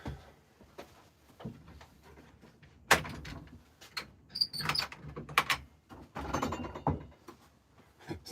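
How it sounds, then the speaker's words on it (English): A heavy workshop door is worked open with a series of clunks, scrapes and metallic squeaks, loud and close, in uneven bursts separated by brief pauses. "I'm probably gonna have to open the door."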